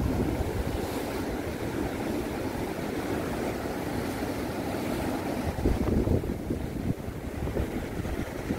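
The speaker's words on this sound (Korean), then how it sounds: "자, 파도를 좀 가까이서 보도록 하겠습니다." Sea waves crash and surge at Naksan harbor on the Korean coast, a continuous, fairly loud wash of surf with wind buffeting the microphone and one heavier break near the end.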